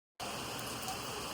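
Steady rain falls throughout in Belthangady, a dense, even hiss that starts abruptly after a brief silence and holds at a constant level with no voices.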